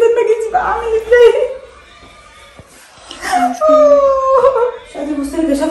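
A dog whimpers after a fall, giving thin, rising and falling whines close by, mixed in with people talking.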